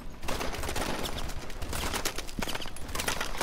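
Gunfire in the futuristic shooter Call of Duty: Advanced Warfare, a dense, sustained stream of rapid shots and crackling bursts at steady loudness for the whole stretch.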